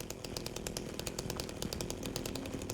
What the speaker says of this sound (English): we'll use the chainsaw for a bit. If it gets too easy or just the noise gets too annoying